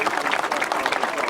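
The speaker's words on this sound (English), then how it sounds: "Come on, a big round of applause," Brief burst of crowd applause at a grasstrack racing event honoring rider Tony Black, dense and continuous clapping from an audience, steady and fairly loud.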